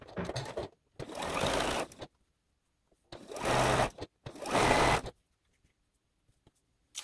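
A sewing machine stitches quilt pieces together, made from bags, in four close, loud bursts of whirring needle motion separated by short pauses, with no talking.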